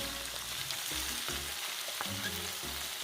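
Pinakbet vegetables, lady's finger among them, sizzle and fry in a pan while being stirred, with steady crackling and soft rhythmic scraping strokes of a utensil, close and fairly loud, no voices.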